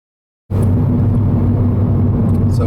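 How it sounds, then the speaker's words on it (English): A Suzuki Swift Sport with its stock exhaust kicks in abruptly after silence, a loud, steady low engine drone and road rumble holding for about two seconds. "I told you I'm gonna rev this out a little bit and just get out to a better section of road here."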